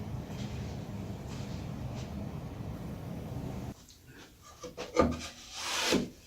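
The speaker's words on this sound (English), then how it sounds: "I'm going to go ahead and cut just a hair off that." Saw cutting a thin sliver off the bottom of a hollow interior door, a steady rasping stroke for several seconds, then stopping, followed by a few scattered knocks and scrapes nearby.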